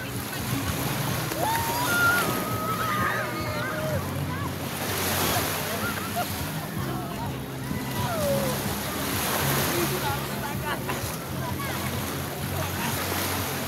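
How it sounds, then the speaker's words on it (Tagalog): Sea waves at Puerto Azul washing and surging steadily, with wind buffeting the microphone and faint voices mixed in. "Nandito na ako sa dagat!"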